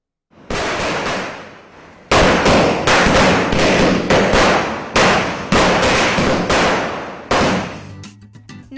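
Firecrackers burst repeatedly during Diwali celebrations in Chennai, a rapid string of loud, sharp cracks and thuds lasting several seconds, close and dense, alone without talk.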